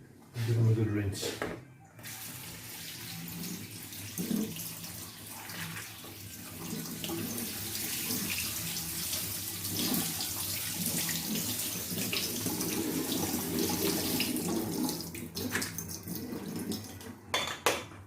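Soaked carlin peas rinsed in a colander under a running kitchen tap, a steady hiss of flowing water with occasional metallic clinks and rattles, continuing throughout.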